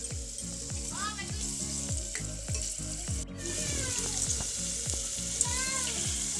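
Onions with peas and cabbage sizzle and fry in a pan, a steady hiss broken by repeated scraping stirs and a light clack of the utensil, close and continuous.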